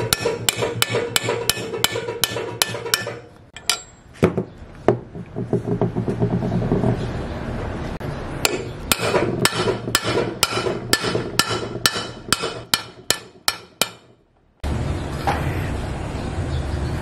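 Metal hammer blows striking a worn scooter swing arm bearing to knock it loose, loud and close: rapid runs of sharp strikes broken by short pauses and scattered single hits, with a brief silent gap near the end.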